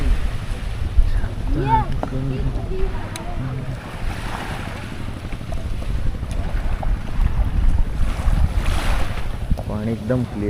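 Sea waves wash ashore at Radhanagar beach on Havelock Island in the Andamans, a steady rushing surf mixed with wind noise, while voices talk over it.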